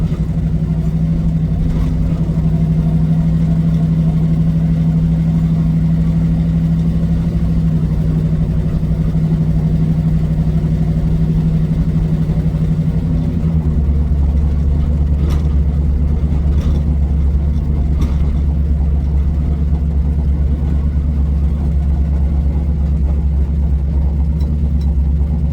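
A Plymouth Satellite engine idles steadily and loudly up close, its low rumble dropping to a deeper, heavier tone partway through, with no talk over it.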